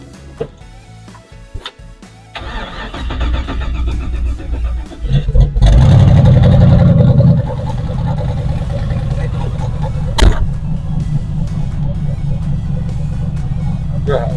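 A 1964 Chevrolet Impala with an LS engine cranks, catches and settles into a loud, close, steady rumbling idle after a brief rev, with someone talking over the start.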